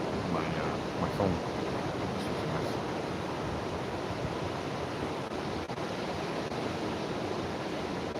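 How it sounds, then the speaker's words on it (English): Ocean waves crashing on a beach in the Philippines, a steady, wind-like wash of surf that rolls on throughout the clip. "if you're hearing wind now, you're just hearing the waves crashing"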